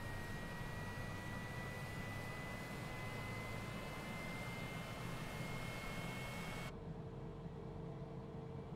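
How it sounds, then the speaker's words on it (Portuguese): A business jet engine spools up during start in Microsoft Flight Simulator 2020, giving a steady, even whine with a slowly rising tone over a constant hiss, then the higher part cuts off abruptly near the end. "Barulhinho lindo desse motor."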